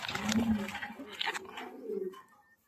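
Racing pigeons coo close by in a loft, with low throaty calls and some rustling and flapping that fade toward the end.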